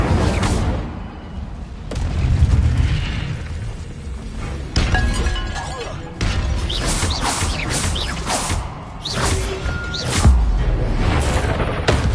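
Spell casting effects in the Hogwarts video game, a rapid series of magical whooshes, booms and shattering crashes in repeating bursts, loud and close throughout.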